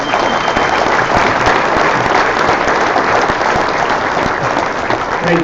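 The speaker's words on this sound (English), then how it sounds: "Let's give them a round of applause." A large audience at an awards event applauds the event staff with loud, dense, unbroken clapping that holds steady throughout, close and full, with no talking over it.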